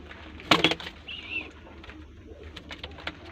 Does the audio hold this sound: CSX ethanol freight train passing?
no